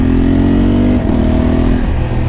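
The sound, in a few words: motorcycle engine and exhaust revving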